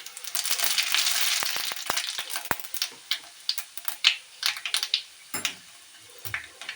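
Dried red chillies, bay leaves and Bengali five-spice seeds hit hot oil, a bright sizzling rush that breaks into scattered crackles and pops, close up and without talk.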